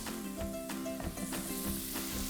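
Scallops sautéing in a hot pan, a steady bright sizzle with rhythmic crackling pops, close and continuous.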